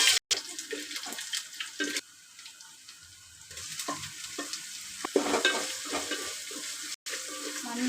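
Onions and mustard seeds fry in oil in an uruli, a traditional metal cooking vessel, for a tuna fish curry. A steady close sizzle runs under repeated scraping stirs, with a few brief louder clatters and no talking.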